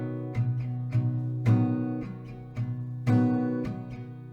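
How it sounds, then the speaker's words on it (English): Acoustic guitar strumming the pattern for a song, a slow, even rhythm of bright down-and-up chord strokes with accented hits, played close and clear with no talking. "That is the strumming there."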